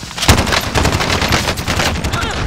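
Rapid automatic gunfire in the online shooter Call of Duty: Warzone, a dense, continuous burst of shots rattling through the whole stretch at steady loudness.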